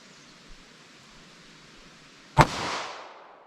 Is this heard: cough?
no